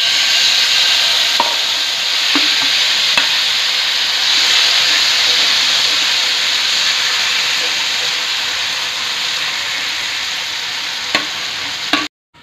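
Roasted mashed brinjal fries in mustard oil with a loud, steady hissing sizzle, punctuated by occasional spoon taps and scrapes against the pan, ending abruptly.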